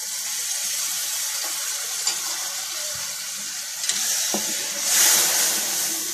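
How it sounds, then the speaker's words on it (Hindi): Tamarind water pours into a pan of spices frying with green chillies for a stuffed okra dish, a steady hiss and sizzle that swells near the end, with a few light clinks. "इसके बाद इमली का पानी शामिल कर दें।"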